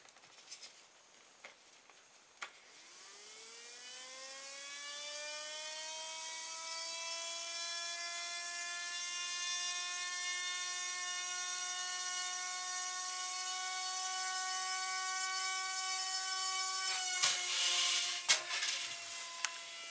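A Basic PowerUp propeller drives a small ground effect vehicle across a shiny floor, its whine rising in pitch as it spins up and then holding a steady, close, buzzing drone with harmonics before a few bumps and clatters near the end.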